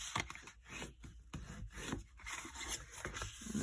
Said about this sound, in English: I'm going to fold on all the score lines and give it a nice burnish with my bone folder.